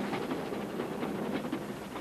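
A Ffestiniog Railway train rolls along the narrow-gauge line with a steady rumble and rhythmic rail clatter, heard continuously from on board at moderate level.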